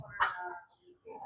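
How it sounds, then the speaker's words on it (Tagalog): Faint, distant chorus of birds chirping and twittering around a tea house, several overlapping high calls in a soft outdoor ambience. "Madaming ibon."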